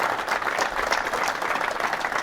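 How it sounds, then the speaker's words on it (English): An audience gives a round of applause, a steady wash of many hands clapping at moderate volume with no voices over it. "round of applause"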